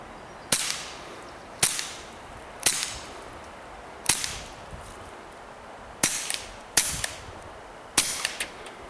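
Seven sharp, suppressed reports from a Walther PPQ .22LR pistol fired outdoors, spaced irregularly about a second apart with a couple in quick pairs, each a crisp crack with a short decaying tail.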